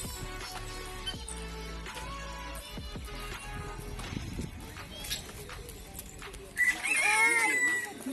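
A chicken crows near the end at a bird sanctuary, a loud rising call that stands out after several seconds of busy background noise and voices.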